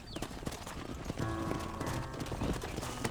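Hooves of a horse herd clop steadily in Red Dead Redemption, a dense, continuous trampling rhythm with a tonal musical layer entering partway through.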